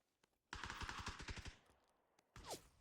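Rapid bursts of automatic gunfire in PUBG, a dense volley of about a dozen shots, then a pause and a short final burst.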